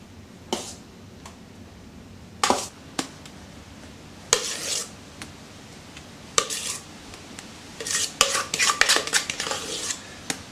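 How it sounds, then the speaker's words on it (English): Cheesecake topping being spooned onto a biscuit base, with scattered clinks and scrapes of a spoon against a bowl and dish, several short bursts separated by quiet, close and fairly loud. "So I'm just basically going to spoon this,"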